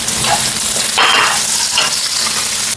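White onion sautéing in a small amount of oil in a pan, a loud steady sizzle with a burst of scraping stirring near the one-second mark, close and without talk.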